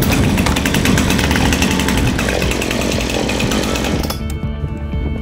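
A Husqvarna chainsaw engine roars loudly and steadily at close range, then drops abruptly to a lower, rougher idle near the end.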